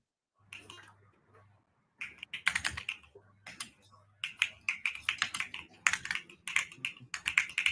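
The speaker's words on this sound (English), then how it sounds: "that's a beautiful mechanical keyboard. We see that, but no need to hear that" Rapid clacking keystrokes on a mechanical keyboard, close and crisp, in uneven bursts that grow denser and louder, with a faint low hum underneath.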